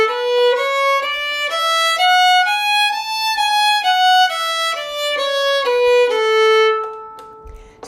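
A solo violin plays a smooth, connected scale of separate bow strokes, each note changing bow direction, rising then falling, clear and close with no talking.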